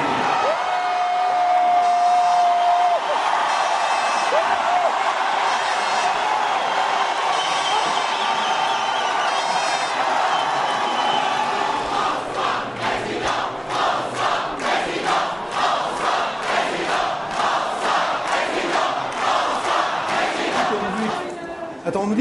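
Large street crowd at a Benoît Hamon campaign event, a loud continuous roar of many voices with rhythmic chanting and cheering building in the second half.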